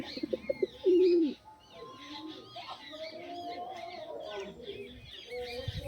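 Madrasi high flying pigeons coo in low, soft, rolling calls close by at a loft, with one louder burst early on and quieter chirps and murmurs scattered throughout.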